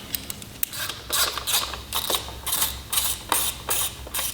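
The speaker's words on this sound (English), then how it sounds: "This side cover's a 4mm Allen key." A 4mm Allen key turns side cover fasteners on a Royal Enfield Himalayan motorcycle, producing close, crisp clicking and ratcheting scrapes in quick irregular bursts.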